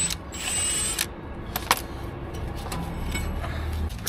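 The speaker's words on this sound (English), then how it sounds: "So it's a 21mm socket. Let's get that on." A ratchet fitted with a 21mm socket turning a bolt during warranty repair work, giving a series of close, sharp clicking bursts with short pauses between strokes.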